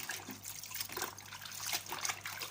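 Tap water runs steadily while Malabar spinach (alugbati) leaves are washed in water with salt and vinegar, a continuous splashing trickle at close range with no talking.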